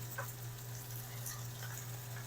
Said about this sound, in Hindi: तो मटन को हम तब तक भून लेंगे जब तक इसका कलर अच्छी तरह वाइट नहीं हो जाता